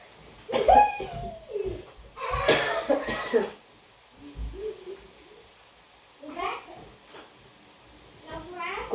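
A child coughs several times in short bursts at home in the morning, the harsh, hoarse coughs close and fairly loud, mixed with other voices and pauses.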